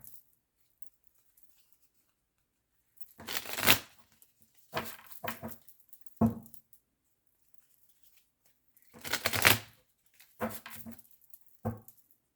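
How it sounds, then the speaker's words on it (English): A deck of tarot cards is shuffled in a few separate bursts, each a short riffling rustle followed by soft taps, spaced by long quiet gaps. "just shuffling the deck to this energy here"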